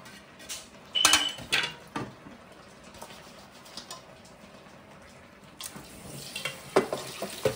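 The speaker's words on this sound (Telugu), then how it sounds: "ఎన్నెత్తల్లో వేడి నీళ్ళు వేసుకొని ఇదిగోండి మళ్ళీ బాగా కడగాలి" Dried fish being washed by hand in hot water in a basin, with splashing, sloshing and clinking bursts, the loudest near the start and again toward the end, close by, with no speech.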